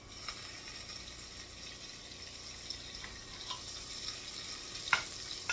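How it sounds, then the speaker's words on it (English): Two tablespoons of butter melt in a pot on the stove, a faint steady sizzle with a few soft pops. "put the 2 tablespoons of butter into the pot"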